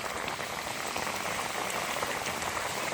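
Thick aloo bukhara (plum) chutney bubbling in the pot, a dense, even crackle of popping bubbles that sounds close and holds steady throughout, with no one speaking.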